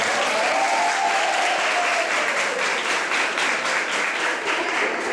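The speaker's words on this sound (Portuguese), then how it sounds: "Vamos aplaudir o Senhor" Women gathered at a church women's meeting applaud together, a thick, continuous roar of clapping held at a strong, steady level throughout, with a faint voice briefly rising above it early on.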